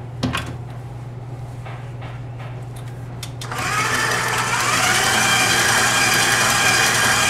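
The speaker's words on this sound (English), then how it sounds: "We're going to whisk" A stand mixer with a whisk attachment whips buttercream: a steady motor hum and a few clicks and taps first, then the motor ramps up to a louder, steady whir at medium-high speed, close by, with no talking.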